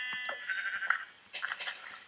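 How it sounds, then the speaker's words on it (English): Sheep in a Minecraft-style video game world bleat a few times in quick succession, with short wavering calls in two clusters that are clear and fairly close, and no voices. "Hey, look, there's another sheep."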